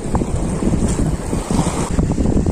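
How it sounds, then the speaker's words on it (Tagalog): Large sea waves washing onto a shore on a rough, windy day during shore casting, a continuous loud roar of surf with heavy wind buffeting the microphone, no talking. "Malaki pa ngayon ang alonan."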